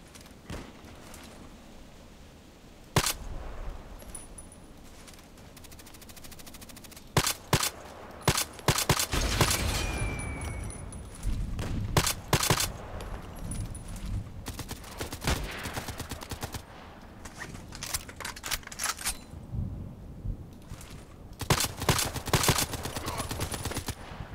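Gunfire from a PBM marksman rifle in a shooter game: repeated sharp shots in irregular bursts and single cracks, loud and close, spread across the whole stretch with brief quiet gaps between volleys.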